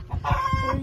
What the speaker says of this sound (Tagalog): Naingay yung mga manok ni Papa Joe, guys.